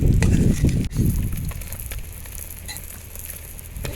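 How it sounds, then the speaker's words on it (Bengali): Eggs seasoned with salt and turmeric frying in hot oil in a pan, a steady crackling sizzle with a few louder spatters and scrapes early on, close and continuous. "ডিম ভাজা হয়ে গেছে এখন নামিয়ে নিব"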